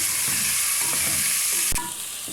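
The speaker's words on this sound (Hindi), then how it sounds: "थोड़ा सा फ्राई करने के बाद चने ऐड कर देंगे, इनको मिक्स किया।" Chickpeas fry in a pan while being mixed, a loud steady sizzle with soft stirring scrapes and a sharp knock near the end before the hiss eases slightly.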